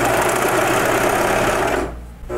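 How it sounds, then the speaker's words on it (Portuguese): An overlock sewing machine finishes the bottom edge of a blouse, running steadily and loud for nearly two seconds before stopping abruptly. "nessa partezinha aqui de baixo, eu vou fazer o acabamento no overlock"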